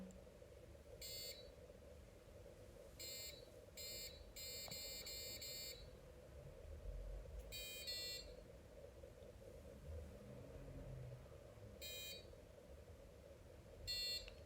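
Short bursts of high electronic beeping from an Arduino buzzer triggered by hand gestures, some single and some in rapid clusters, sounding over a steady low hum.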